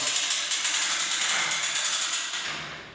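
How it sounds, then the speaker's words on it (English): A ratchet strap is cranked tight during a heavy-duty semi truck hood lift, a rapid, even series of close metallic clicks that slowly fade over a few seconds. "I'm going to go ahead and tighten up the strap"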